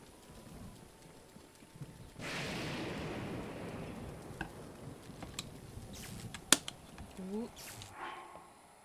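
Rain falling in the video game Zelda Breath of the Wild, a soft, steady hiss of rainfall that swells after a couple of seconds and continues under scattered game sound effects and a speaking voice.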